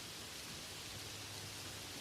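Gentle rain falls in a soft, even hiss, a steady wash of drops with no breaks, quiet and unaccompanied by voices.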